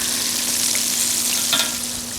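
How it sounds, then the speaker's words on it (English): Chicken sizzles and crackles steadily in hot oil in a pan on a wood-fired biomass stove, a close, constant frying hiss with no voices. "I know it's still hot because the chicken's frying."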